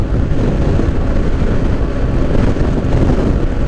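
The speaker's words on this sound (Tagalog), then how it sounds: "Lumalaban yung hangin ah." Steady, heavy wind roar buffeting the microphone, continuous and loud with no pauses, like rushing air during a fast ride.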